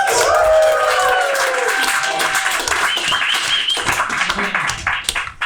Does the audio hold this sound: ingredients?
no